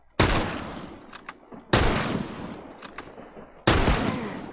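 Rifle fire in a combat video game rings out in three sharp, loud bursts spaced a second or two apart, each followed by a decaying rattle and echo.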